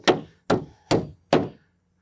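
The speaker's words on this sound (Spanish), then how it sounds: "Vamos a clavar la parte de abajo." Four sharp hammer strikes drive nails into the bottom plate of a wooden shed wall under construction, evenly spaced about half a second apart, close and loud with short decaying ring, no talk.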